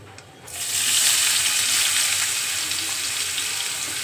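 Onions drop into hot oil for white chicken, already fragrant with cracked cardamom, and a bright, steady sizzle bursts up abruptly and holds loud and hissing close by, without speech.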